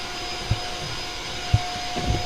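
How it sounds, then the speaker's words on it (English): A vacuum cleaner drones steadily in the background of a room, a constant whining hum with a few soft thumps, no talking. "there's just a vacuum in the background because my room's a dirty piece of shit"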